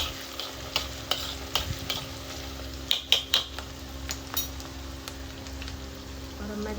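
Garlic-ginger paste and onion fry in a pan while a spoon stirs and clinks against the metal, making a steady sizzle broken by irregular scrapes and sharp taps, close up with no speech.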